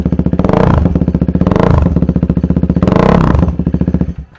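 A KTM RC sport motorcycle with a full-system aftermarket exhaust revs hard, loud and close. Three long blips climb and fall over a rapid, lumpy idle pulse, and the engine cuts off at the end.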